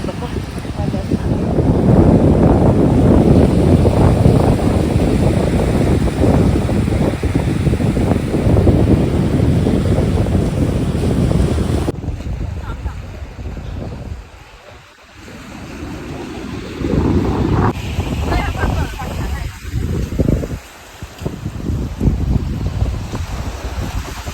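Strong wind buffets the microphone on a seashore as waves surge and wash in, a loud rushing roar that drops away midway then returns, with people talking over it.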